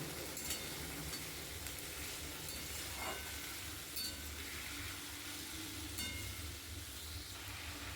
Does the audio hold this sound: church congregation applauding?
no